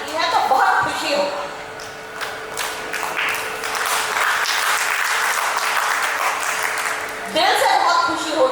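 Sustained audience applause at a Hindi kavi sammelan poetry gathering, a broad steady wash of many clapping hands with a voice and cheers at the start and a brief swell near the end.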